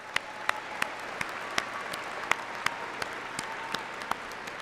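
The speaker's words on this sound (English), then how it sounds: "Let's give them a round of applause, please." A large audience in an arena applauds at a university graduation ceremony, a steady dense patter of many hands with a few louder claps popping out at intervals.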